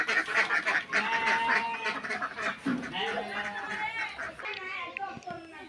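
Domestic ducks at a rural family home quack and honk in a busy, overlapping run, close and fairly loud, with children's voices and talk mixed in throughout.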